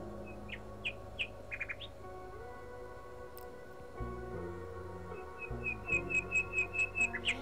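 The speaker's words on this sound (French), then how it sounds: "Écoutez le chant mélodieux des oiseaux vous envelopper d'harmonie." Melodious birdsong set under a hypnosis recording, bright repeated chirps and whistled phrases coming in clusters over a soft low musical bed, faint at first and then a quick run of regular tweets near the end.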